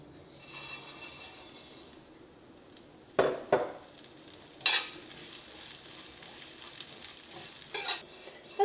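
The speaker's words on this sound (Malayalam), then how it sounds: "ഈ ചൂടായ നെയ്യിലേക്ക് നമുക്ക് സേമിയ ഇട്ടിട്ട് വറുത്തെടുക്കുക" Vermicelli fries in hot ghee over a medium flame for semiya payasam, a soft steady sizzle broken by a few sharp scrapes and knocks of a spoon stirring the pan, close and alone.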